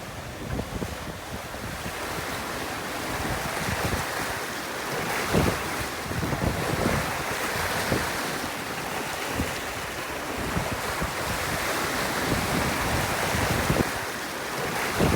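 Wind and sea surge around a sailboat heeling to port while sailing north at sea. The rush and wash are steady and loud, with occasional wave slaps and wind buffeting the microphone, and no voices.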